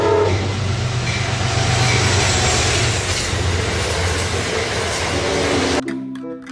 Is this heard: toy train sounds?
yes